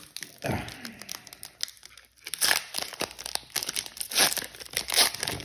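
A Magic: The Gathering Bloomburrow booster pack's foil wrapper crinkles and tears open up close, with sharp crackling rips and rustling that grow louder midway.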